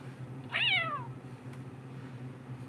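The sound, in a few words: person imitating a full-size cat meowing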